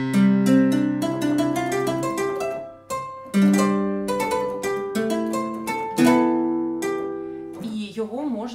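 A harpsichord played first on its main register and then on its lute-imitating register, a steady run of plucked notes with crisp attacks and quick decay, loud and close, with a short pause midway and no talking.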